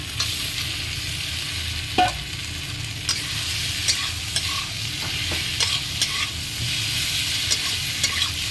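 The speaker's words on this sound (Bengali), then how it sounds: "আলুগুলো দিয়ে আরও 5 মিনিট মতন আমি কষিয়ে নেবো বন্ধুরা" Potato pieces frying in spiced oil in a pan for a spicy fish curry with tengra and prawns, a steady close sizzle broken by several scraping stirs, with no talking.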